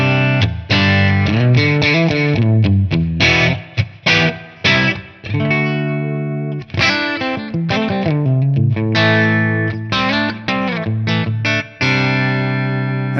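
Electric guitar played through a Marshall-style amp model on a ToneX modeler with no delay. Distorted chords and riffs ring out loud and close with short pauses between phrases, and no voice is heard.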